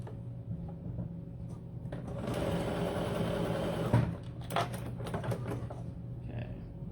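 A sewing machine runs in one steady burst through the fabric of a self-binding baby blanket. A few soft handling clicks and taps follow, and the room is otherwise quiet, with no talking.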